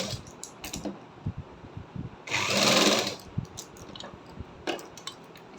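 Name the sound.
sewing machine stitching along the folded fabric edge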